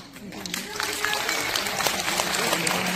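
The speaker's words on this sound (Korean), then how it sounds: "큰 박수로 맞이해 보도록 하겠습니다" An audience at a seniors' welfare centre arts festival in a hall claps in sustained, dense applause, close and fairly loud, with a voice speaking over it.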